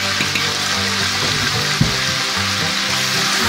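Mutton sizzling in a pan over high flame while being fried with desi garam masala, a steady close hiss of frying with occasional light clinks of a spoon, no talking.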